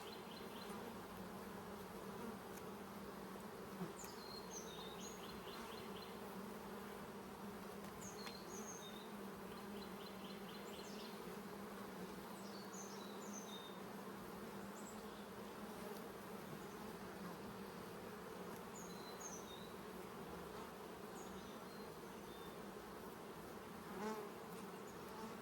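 Honey bees swarm around an open hive during an inspection of honey supers and brood chambers, making a faint, steady, continuous buzzing drone that never lets up.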